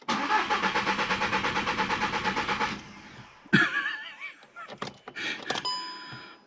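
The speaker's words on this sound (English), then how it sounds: "So ignition on, start it." A car engine is cranked with the ignition: a loud rhythmic starter motor churns for about three seconds, then the engine catches with a sharp burst and settles, followed by some clunks and a faint tone.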